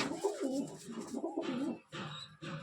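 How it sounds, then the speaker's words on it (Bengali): Punjab pigeons, a male among them, coo near at hand in repeated throaty, rolling phrases that pause briefly and then resume, with no talk over them. "এই পায়রাটা নর পায়রা"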